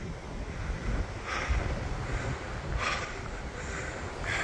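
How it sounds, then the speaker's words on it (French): Wind beginning to blow on the north side of a mountain ridge, a broad rushing roar buffeting the microphone in steady waves with a few stronger gusts. "on sent qu'il y a le vent côté nord là qui commence à taper"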